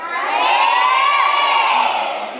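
A crowd of Sunday school children shouting together in one loud, sustained cry, rising and then tapering off over a couple of seconds.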